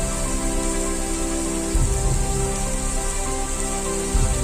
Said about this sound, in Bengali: তারপরে দেখো বৃষ্টি শুরু হয়ে গেছে